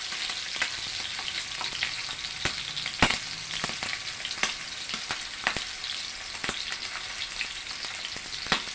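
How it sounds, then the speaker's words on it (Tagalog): Pork fries in hot oil with a steady sizzle, punctuated by frequent sharp crackles and spattering pops, close up and without talk. "Ayan, tinutulansik na."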